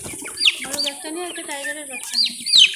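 Chickens and roosters, including Fayoumi and Bangladeshi Aseel fowl, cluck and chatter close by in a mix of warbling calls and sharp squawks, with a person speaking among them.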